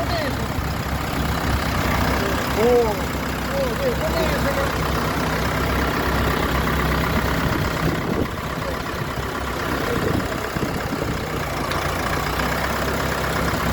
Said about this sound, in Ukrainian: 28-х класний швидкісний тракторець, чотирьохциліндровий двигун